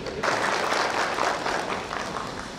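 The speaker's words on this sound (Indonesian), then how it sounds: "mari kita syukuri dengan memberi tepuk tangan yang meriah" Audience applause at the STMIK Mahakarya 2016 graduation ceremony: a steady burst of clapping from a seated crowd that starts abruptly and holds for a couple of seconds, moderately loud and fairly close.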